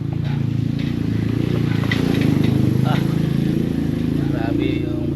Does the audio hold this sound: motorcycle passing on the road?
yes